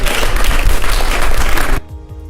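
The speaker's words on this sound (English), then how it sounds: "So a big round of applause." Loud, dense applause from a crowd, steady clapping that cuts off abruptly near the end, leaving a quiet room.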